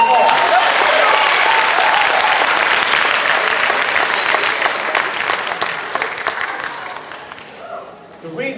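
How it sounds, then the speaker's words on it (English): Graduation ceremony audience applauding, a loud, steady wash of many hands clapping that gradually thins and fades toward the end. "Give yourself a round of applause."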